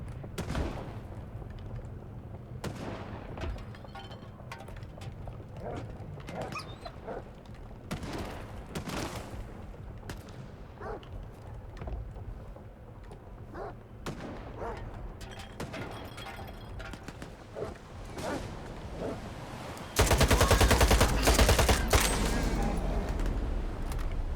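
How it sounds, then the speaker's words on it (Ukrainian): Bursts of gunfire in the video game S.T.A.L.K.E.R. 2 crack out repeatedly over a low background bed, with a sudden louder, noisier stretch near the end. "може досить по мені стріляти, ні?"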